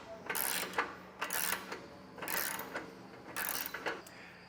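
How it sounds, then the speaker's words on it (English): A socket wrench tightens a nut on a Thule TracRac SR sliding truck bed ladder rack, making four close bursts of rapid ratcheting clicks separated by short pauses. "then the socket for the nut over here, tightening it up"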